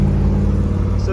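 Factory 454 big block V8 in a 1974 Chevy short bed 4x4 pickup on a Los Angeles freeway at half throttle, a loud, steady low engine rumble heard from inside the cab.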